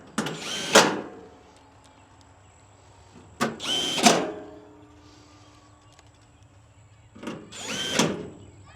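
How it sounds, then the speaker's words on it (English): A power drill whirs in three short bursts, each rising and falling as a screw is driven in, separated by quiet pauses. "take our drill and go ahead and tighten down our screws"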